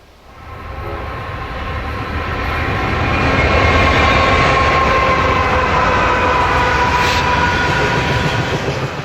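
An eastbound freight train passing through Mullen on the Sand Hills Subdivision, swelling from a distant rumble to a loud, sustained roar of wheels and cars with faint clickety-clack, staying close and steady to the end.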